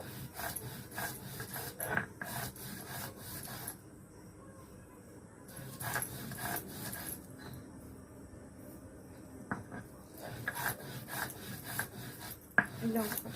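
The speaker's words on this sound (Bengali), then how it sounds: "লঙ্কাটা বাটা হয়ে গেল।" Dried red chili being ground into paste on a traditional grinding stone, a repeated rough rubbing and scraping of stone on stone that comes in bursts with a short quieter pause midway, close and steady.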